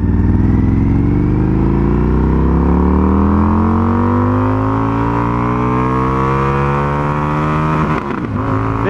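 A 2019 Indian FTR 1200S motorcycle accelerates hard in first gear, its engine drone climbing steadily in pitch, loud and close throughout, then briefly dipping near the end.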